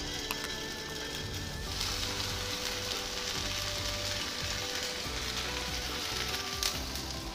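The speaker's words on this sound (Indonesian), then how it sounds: "Setelah minyak panas, goreng terong yang sudah diolesi dengan paha ayam cincang." Eggplant spread with minced chicken thigh sizzles and crackles steadily in hot oil, an even frying hiss that continues throughout with no talking.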